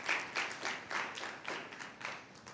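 Symposium attendees give a speaker a small round of clapping, a few distinct bursts of hand claps at moderate volume, sparse and uneven rather than a full roar.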